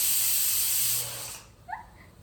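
A pressure cooker cooking dal lets off a loud, rushing steam whistle that holds steady and then cuts off abruptly, leaving a faint quiet tail with a brief small squeak.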